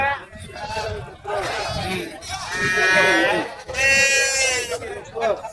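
Goats bleat in long, wavering calls at a crowded livestock market in Kunnathur. The bleats are loud and close, and people chatter in the busy background.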